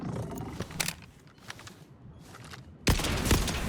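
Single-shot gunfire in the video game Borderlands 4: a few sharp separate shots over a game soundscape with a roaring rumble, then a louder, denser burst of firing near the end, with no talking.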